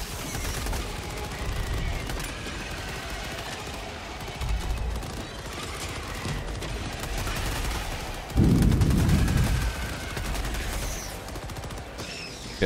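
Gunfire from Helldivers 2 rattles through a dense stream of rapid shots, with a heavier burst of blasts midway and steady game ambience underneath.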